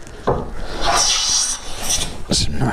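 A hand plane shaves very thin curls from a wooden cross, several close, rasping strokes in quick succession, each a short rough swish against the wood.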